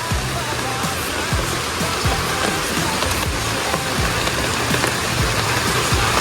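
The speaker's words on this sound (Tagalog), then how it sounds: "Kahit umuulan." Steady, loud rain pours down outdoors at a house construction site during flooding, a dense unbroken hiss with scattered drips and splashes and no voices.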